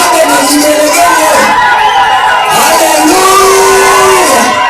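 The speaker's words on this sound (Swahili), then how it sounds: "Sijasikia shangwe na vigelegele." A Pentecostal church congregation in Naivasha cheers and ululates loudly, with sustained wavering high cries rising over a dense, continuous crowd roar.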